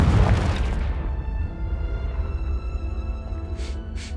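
Confringo spell explosion in Hogwarts Legacy, a loud booming blast that decays over about a second into a lingering rumble, followed by two faint short bursts.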